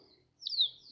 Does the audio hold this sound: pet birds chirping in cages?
yes